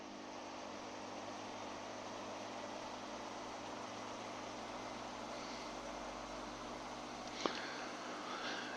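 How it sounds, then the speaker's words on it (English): Airliner taking off in the airport simulator Tower! 3D Pro at LAX: a steady, whining engine drone that holds evenly throughout, moderately distant, with one sharp brief click near the end. "A sound effect that sounds like an electric engine winding up."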